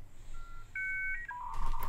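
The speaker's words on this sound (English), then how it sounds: "Modem dial-up sound." Dial-up modem tones: a quick run of dialing beeps, then steady electronic handshake tones that break into a harsh burst of noise at the end. The whole sound lasts about two seconds.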